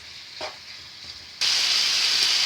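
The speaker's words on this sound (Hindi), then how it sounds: "अब हम इसको लाइट फ्लेम पे इसको पकाना शुरू करते हैं।" Marinated chicken tikka bites are cooking in a pan on a low flame. A quiet stretch with a few small clinks gives way to a sudden, loud, steady sizzle that holds to the end.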